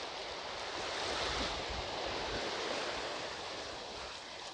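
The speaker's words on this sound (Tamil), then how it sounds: "இந்த கடலில் தோன்றும் அலைகள் மிகவும் கொடூரமான அலைகளாக காணப்படுகின்றன." Rough ocean surf rolls in at Kankesanthurai beach in Jaffna, Sri Lanka, as a steady, dense roar of waves mixed with wind buffeting, with no voices.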